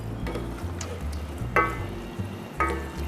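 Hard-boiled eggs being stirred through annatto adobo in a pan, soft scraping strokes over a low sizzle, with a few brighter clinks of the spoon against the pan.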